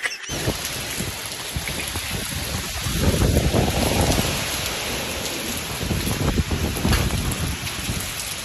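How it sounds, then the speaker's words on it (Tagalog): Heavy rain and gusting wind during Typhoon Kristine make a dense, loud roar that surges strongly partway through and again near the end, with no voices. "ang lakas ng ulan at ng hangin."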